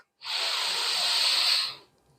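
A long, deep breath drawn in through the mouth during a guided bedtime relaxation, close and steady as a soft airy rush lasting well over a second, then fading out alone without talk.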